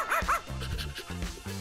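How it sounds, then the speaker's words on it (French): A dog gives a quick series of yips and barks, close and fairly loud, with no talk over it. "Quel gentil toutou!"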